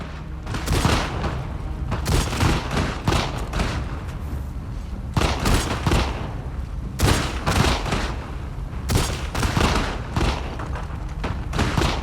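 Heavy gunfire in The Last of Us Part II, with loud repeated bursts of shots and booming impacts coming in clusters over several seconds, mostly without speech.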